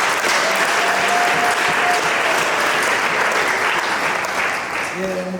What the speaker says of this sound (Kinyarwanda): amashyi dushimira Imana.